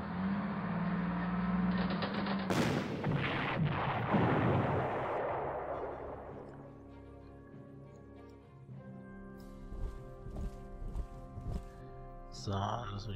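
Artillery fire booms in the WWII strategy game Panzer Corps, with a loud blast and a heavy rumbling roll that fades out, followed by quieter scattered in-game sounds.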